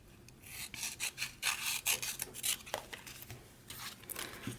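Paper journal pieces are cut out with a run of close, quiet, rasping snips and rubbing strokes in an uneven rhythm, with no talking.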